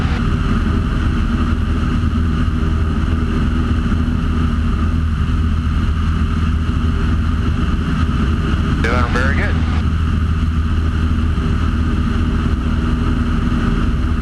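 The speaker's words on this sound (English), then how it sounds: "because the engine's working hard, because it's obviously pulling us not only forward, but up" A small single-engine airplane's engine working hard in a climb drones steadily and loudly, a dense, unbroken hum throughout, while a person speaks briefly over it.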